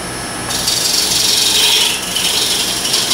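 A wood lathe turns a Bradford pear bowl while a tool flattens its bottom, a loud, close, continuous scraping hiss over a low motor drone, rising in brief surges.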